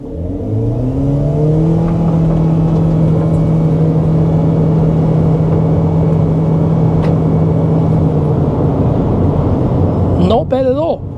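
A Haval Jolion Hybrid in sport mode pulls away from a standstill, its steady rising motor-and-engine hum loud and close inside the cabin for about eight seconds before fading into road noise.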